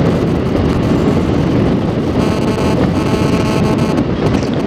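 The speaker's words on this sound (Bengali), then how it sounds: "প্রচণ্ড হাওয়া চলছে, প্রচণ্ড হাওয়া" Strong wind buffets the microphone during a ride on a TVS Jupiter 125 scooter along an open highway, a loud continuous roar mixed with road and engine rumble. There is no speech.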